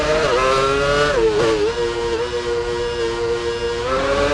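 Formula 1 race car from the video game F1 Championship Edition, its engine holding a loud, steady high-pitched whine that dips twice as the car slows for hairpins, then settles into a sustained drone.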